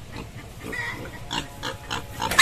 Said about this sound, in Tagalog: Ayan, baboy damo.